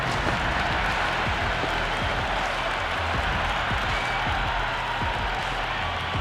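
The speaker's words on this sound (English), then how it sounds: "The crowd are loving every minute of this match." Stadium crowd in the cricket video game Cricket 26 roaring and applauding during an RCB vs SRH IPL match, a continuous dense wash of cheering and clapping at steady loudness with no talk.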